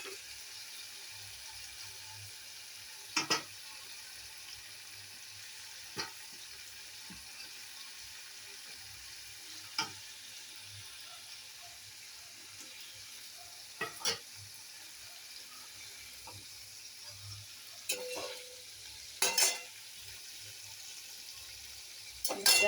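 Large tengra fish fry in oil in a pan with a faint, steady low sizzle. Sparse sharp clinks and taps from utensils break through now and then.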